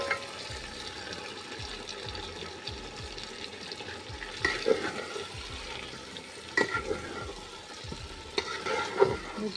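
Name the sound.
chicken sautéed in spice paste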